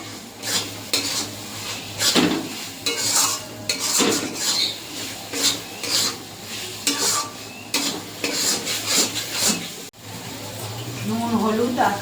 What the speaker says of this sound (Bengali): মশলাটা একটু কষিয়ে আমি তারপরে মাংসটা দিয়ে দেবো